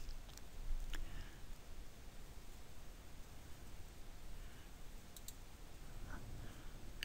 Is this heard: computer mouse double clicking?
yes